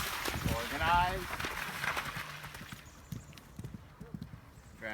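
Horse hooves clip-clop and splash through a water crossing on a cross-country riding course, a rough uneven rhythm of footfalls with sloshing, while a voice talks over the early part.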